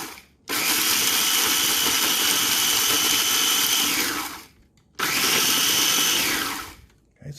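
KitchenAid 3.5 cup food chopper model KFC3516ER whirs in two long runs, a loud high-pitched motor whine of about four seconds, a short stop, then a second two-second burst.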